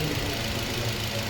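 A 2016–17 Nissan Almera engine running steadily after its four ignition coils were replaced, a close, even mechanical hum without breaks.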